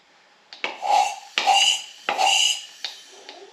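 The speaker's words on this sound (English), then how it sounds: "And you can hear the air coming out." Compressed air hisses out of an engine cylinder during a leak-down test, coming in several sharp bursts of rushing, airy noise, each lasting about half a second, close and fairly loud.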